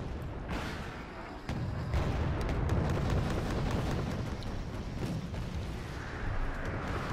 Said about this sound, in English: Now we have artillery being dropped down, mortars giving us aggressive fires.